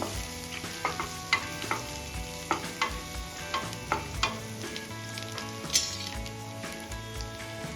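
Turmeric being stirred into a frying mixture of puffed rice for a Karnataka and Marathwada-style breakfast dish: steady pan sizzle with regular spoon scrapes and taps against the pan, close and fairly loud, no voices.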